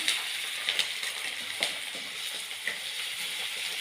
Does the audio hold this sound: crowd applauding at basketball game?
no